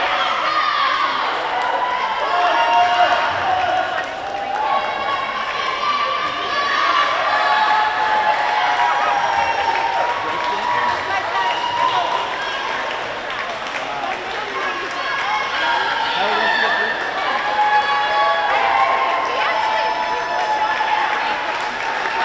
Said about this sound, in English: The swimmers that are already done cheering on the others to finish up. And the crowd joins in to help out.